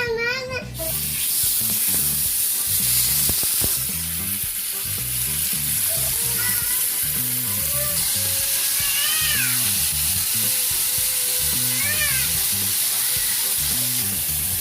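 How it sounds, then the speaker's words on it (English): Pork sears in extra virgin olive oil in a hot pot, a loud, steady sizzle running throughout while a cat meows repeatedly nearby. "So I'm gonna put my pork in the pot and let it just sear"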